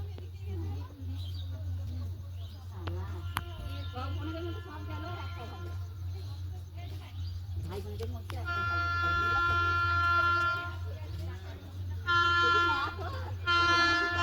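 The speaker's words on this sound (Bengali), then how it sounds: "Howrah two Guwahati Saraighat superfast express flat 130 kilometre গতিবেগে এই পোড়াবাজার রেলওয়ে স্টেশন অতিক্রম করবে" The Saraighat Superfast Express from Howrah to Guwahati races through Porabazar railway station at 130 km/h, with a steady rumble and long horn blasts toward the end, while someone talks nearby.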